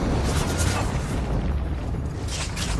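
A booming explosion in the Warframe video game, during the Deadlock Protocol quest, rumbles as a dense, loud, sustained blast filling the whole moment, with faint voice-like sound mixed into the roar.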